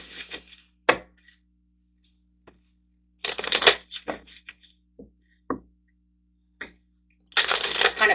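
Romeo and Juliet tarot cards are shuffled in quick riffling bursts between soft taps and clicks, close and clear, with no one talking.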